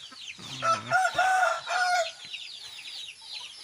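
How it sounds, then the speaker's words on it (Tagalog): Shamo and Aseel chickens cluck and a rooster crows nearby, with scattered bird chatter continuing in the background. "Yan, mga manok."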